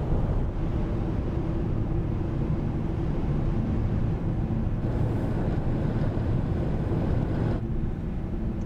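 Strong, cold wind near a cooled lava field in Iceland roars steadily, buffeting the microphone in a loud, continuous low rumble for the whole stretch.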